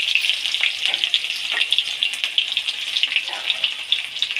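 Cardamom, cinnamon, dried chilli, bay leaf and chopped onion fry in hot oil, giving a bright, continuous close sizzle with scattered pops and crackles throughout.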